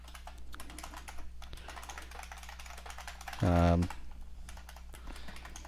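Typing on a mechanical keyboard: a short, loud burst of rapid key clicks stands out against a faint background hum.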